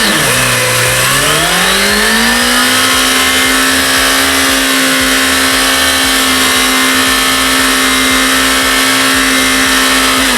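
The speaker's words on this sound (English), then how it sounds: "Bone stock factory exhaust is quiet and shy," A Yamaha GTS 1000 motorcycle engine with its stock factory exhaust revs up from idle, then holds a steady, smooth hum at raised speed, loud and close, with no talking.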